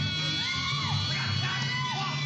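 A woman's scream from an old black-and-white sci-fi film, Cat-Women of the Moon, shrill and sustained with rising and falling wails over a steady hum and low background murmur.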